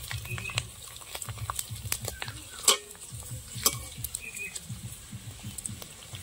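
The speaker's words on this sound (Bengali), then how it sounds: "তেল গরম হয়ে গেছে, এখন পাঁপড়গুলো দিয়ে দেব একটা একটা করে।" Maida papad frying in hot oil gives a soft, steady sizzle with scattered small crackles and pops, fairly quiet and close, with no talking.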